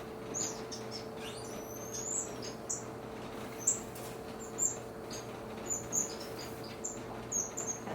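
A male sweetie bird sings in an aviary with faint, very high-pitched chirps repeating at short irregular intervals over a steady low hum, small and distant-sounding.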